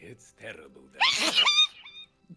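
A single loud, sharp sneeze bursts out right after a short line of talk, with a brief voiced tail, during a fantasy tabletop roleplaying game set in cold, snowy weather.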